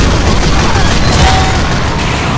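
A bomb detonates in a video game as a loud, sustained boom with a rumbling, crackling wash of debris that fills the whole short moment at close range, with no clear pause or talk over it.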